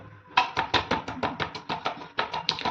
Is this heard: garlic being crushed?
yes